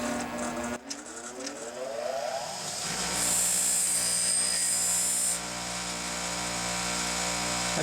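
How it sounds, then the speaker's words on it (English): A Scotch-Brite wheel deburring a master cylinder push rod hums steadily and close, rising as the wheel spins up and then holding a loud, even abrasive whine to the end with no talking. "I'll just touch them up on the Scotch-Brite wheel"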